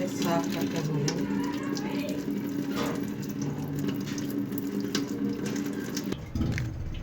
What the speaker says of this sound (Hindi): इस तरह से हम बहुत अच्छी तरह से इन्हें धो लेंगे 3 से 4 बार खुले पानी में।